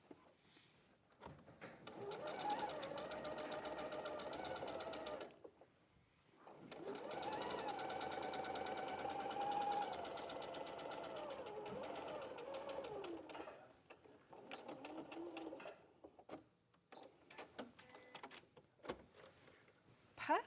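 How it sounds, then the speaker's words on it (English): A domestic sewing machine stitches fabric while sewing in a placket, pivoting at a corner and running up the other side, in two long steady bursts of fast mechanical whirring separated by a pause, then a few short stops and starts. "And then I'll do one more stitch into the corner and then pivot again and sew all the way up the other side."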